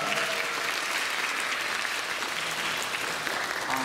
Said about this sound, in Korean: 배우님들과 창작진분들께 박수 한번 부탁드리겠습니다.